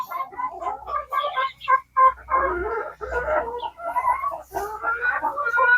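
Chickens, including a hybrid hen sitting on eggs, cluck in a close, busy stream of overlapping calls. Short pauses break the calls and no one speaks.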